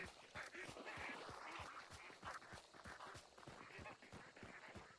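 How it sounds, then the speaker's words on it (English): Ducks quacking in the game Hunt: Showdown, a rapid series of short, sharp quacks and flapping bursts repeating steadily over a faint, constant background. "I wish we wouldn't have scared those ducks because like now they definitely know we're here"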